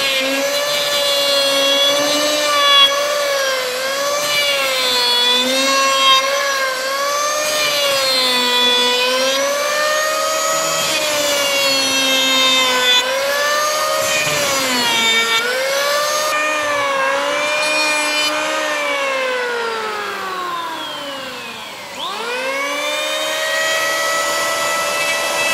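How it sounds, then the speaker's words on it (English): An electric jack plane runs continuously while planing wood in a carpentry workshop, its loud motor whine wavering in pitch as the cut loads and eases, then dipping sharply and recovering near the end. "So now we'll use this electric jack plane."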